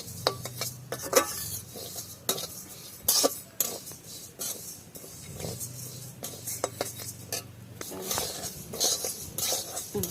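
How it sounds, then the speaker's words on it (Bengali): Mung dal dry-roasting without oil in a small dry wok: repeated scraping and stirring with a metal utensil against the pan, irregular clatters and knocks, plus an occasional cough nearby. "আমি তেল দিয়ে ভাজবো না, আমি ভাজবো শুধু কাঠখোলাতে, ছোটো শুকনো কড়াইতেই ভেজে নিচ্ছি।"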